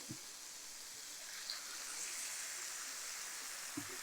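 Water poured into a pan of bottle gourd chicken thokku, a steady soft hiss and trickle like a stream, fairly quiet and continuous, with a couple of faint clinks at the start and end.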